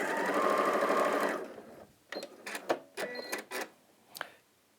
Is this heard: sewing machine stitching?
yes